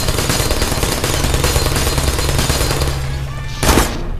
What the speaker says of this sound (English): I can make them shoot each other